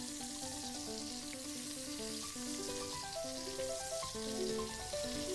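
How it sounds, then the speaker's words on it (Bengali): Pointed gourd frying in oil over low heat gives a steady, continuous sizzle throughout, moderately quiet, with no talking over it. "পটলগুলো উল্টে পাল্টে হালকা লাল লাল করে ভেজে তুলে নেব।"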